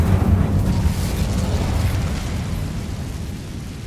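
A fiery Incendio spell blast from the game Hogwarts Legacy, a loud rumbling whoosh that bursts at the start and roars on steadily before slowly easing off, with no voices.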